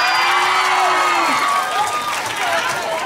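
Crowd clapping and cheering during a gaming livestream, loud and steady throughout with shouts and voices rising over the applause.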